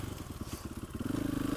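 Husqvarna 501 FE supermotard single-cylinder engine pulsing at low revs, then climbing into a steady, rapid rev near the end, close and fairly loud.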